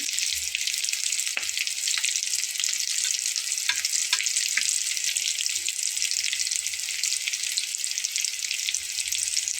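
Potato and flour snacks sizzle steadily in hot oil, a dense, continuous crackle with occasional sharper pops, close and fairly loud with no voices.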